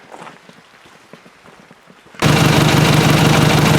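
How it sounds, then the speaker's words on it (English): Quiet scattered taps give way abruptly to a loud, steady downpour of rain hissing heavily and close. "here comes the rain again"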